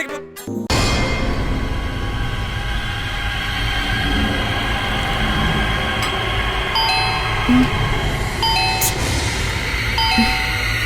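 A doorbell chimes repeatedly, its electronic tones ringing out over a constant loud rushing background noise.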